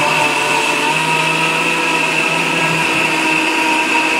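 An electric multi cooker grinds soaked rice with a loud, steady, high motor whine that runs unbroken the whole time.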